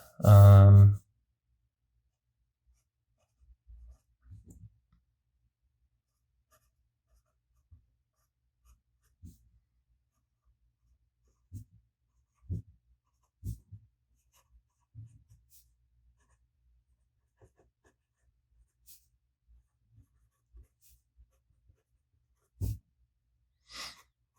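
A fountain pen filled with Monteverde Purple Reign ink writes a test sentence on paper, soft scratchy strokes and taps coming in sparse bursts. A loud breath or sigh opens the passage, then the room stays quiet.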